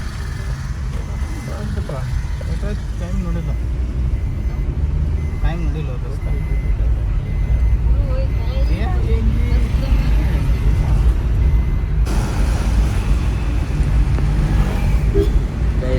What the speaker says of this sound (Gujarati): તમે જુઓ, ટ્રાફિક જુઓ, હદ બારનો ટ્રાફિક છે.